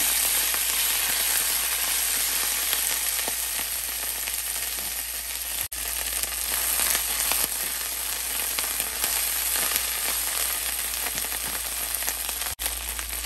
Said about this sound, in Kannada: ಈಗ ಫ್ಲೇಮ್ನ ಕಮ್ಮಿ ಇಟ್ಕೊಂಡು ಕೊತ್ತಂಬರಿ ಆ್ಯಡ್ ಮಾಡ್ತಾಯಿದ್ದೀನಿ